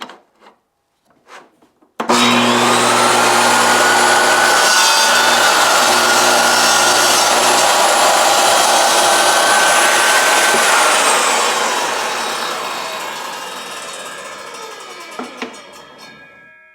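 SawStop compact table saw with a 24-tooth ripping blade making a crosscut on a miter sled: the motor spins up sharply to a loud steady whine, the blade rasps through wood, then winds down with a few small knocks.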